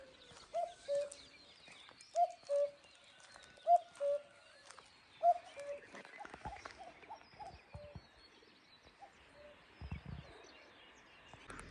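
A cuckoo-like bird calls repeatedly in the hills, giving four clear paired two-note calls at a moderate distance in the first half, followed by fainter scattered calls over quiet outdoor ambience.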